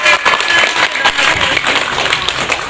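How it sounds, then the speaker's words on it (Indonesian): Schoolchildren in a classroom clap together after answering a teacher's question correctly, a loud, close burst of mixed clapping and crowd noise lasting a few seconds. "Tepuk tangan."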